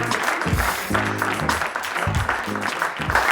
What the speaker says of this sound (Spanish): Para él también un aplauso de 12 sobre 10